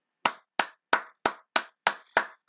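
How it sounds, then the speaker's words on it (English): Seven single hand claps spaced evenly and slowly, close and crisp, each with a short room tail and nothing else heard. "I got to give that one a round of applause"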